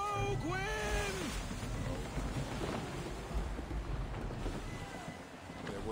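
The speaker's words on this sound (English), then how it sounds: "Yeah, we'll put a rogue wind right as we're trying to exit the area." Gusting rogue wind at sea in Assassin's Creed 3 Remastered, a broad continuous roar and rush of air and water under a voice, with whistling tones at the start and steady stormy noise throughout.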